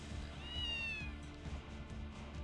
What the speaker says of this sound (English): What's a cat doing here?